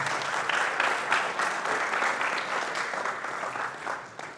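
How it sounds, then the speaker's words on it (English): A small audience gives a steady round of applause at a coach's weekly gathering, a dense crackle of many hands held at even strength for several seconds with no voices above it. "Give me a round of applause"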